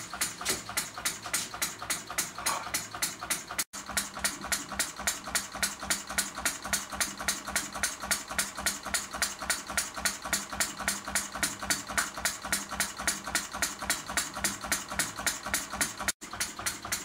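Small 12 cm true diesel model engine, hand-started cold and then idling with a fast, even ticking beat that runs steadily throughout.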